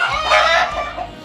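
A chicken's loud, drawn-out call up close, rising then trailing off over about a second.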